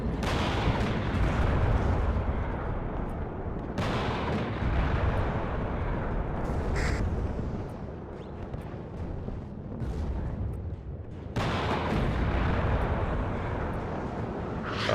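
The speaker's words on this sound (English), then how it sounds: "That's a lot of shots coming in from the side." Battlefield din from the WARNO war game, with rolling artillery booms and dense gunfire in sustained heavy barrages, a brief lull near the middle, then a sharp new blast, loud and continuous without talk.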